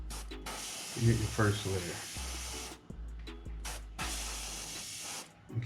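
Airbrush hissing as it sprays paint onto a micro bluegill fishing bait, broadband spray bursts starting and stopping in several passes, close and steady, with someone talking over the spraying.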